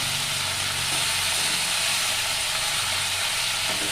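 Freshly washed, chopped spinach hits a hot pan and is stirred in, giving off a loud, continuous hissing sizzle that holds steady throughout with no talking over it.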